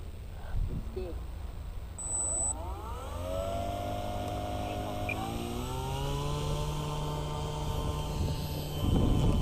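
An E-Flite Cherokee 1.3m electric RC model airplane spools up for takeoff, a rising whine that climbs in pitch and settles into a steady hum, moderately close, with someone talking at the start.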